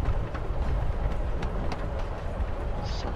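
Train ride in the video game Life is Strange: Before the Storm, a steady loud rumble of carriage and rails with faint rhythmic knocks throughout.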